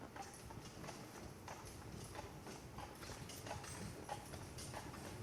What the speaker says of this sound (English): look at the horse-drawn carriage